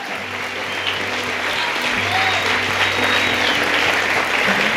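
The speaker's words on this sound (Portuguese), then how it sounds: "Você pode aplaudir ao Senhor" A congregation claps for the Lord during a Portuguese-language celebration church service, producing dense, continuous applause that fills the room at an even level, with a low steady hum beneath and no talking.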